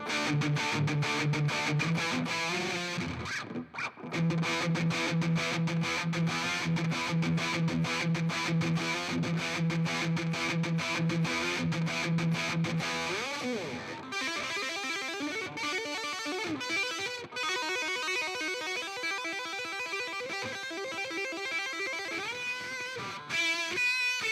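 Electric guitar played through a Maestro effects pedal on the treble pickup, sustained distorted chords and melodic lines ringing for a long stretch, then shifting to brighter, busier picked notes in the second half, with no voices.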